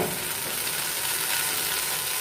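Paya (trotters) frying in oil and masala sizzles in a steady, close, bright hiss with no pauses and no one speaking.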